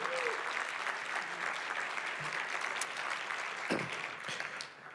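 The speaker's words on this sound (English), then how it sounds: "So if you can, please give a round of applause for them." Audience applause at a library event, a continuous round of clapping from a seated crowd, fairly distant and even, tapering slightly at the end.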